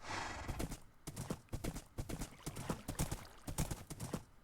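Horse hooves clip-clop in a video game, a quick, steady run of sharp hoofbeats at moderate volume, with a brief neigh mixed in and no talking.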